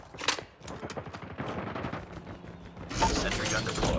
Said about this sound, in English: Sentry gun deployed. Enemy contact. Targets in sight.